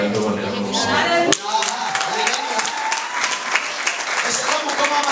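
Church congregation clapping, a burst of many hands breaking in after a sung or spoken passage, then continuing as scattered, uneven claps with voices mixed underneath.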